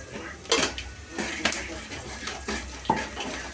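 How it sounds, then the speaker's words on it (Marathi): Biryani masala and onions stirred in a pot: a few clanking spoon-against-metal scrapes and knocks at uneven intervals over steady background noise, with a voice faintly present. "मिक्स करून घ्यायचं"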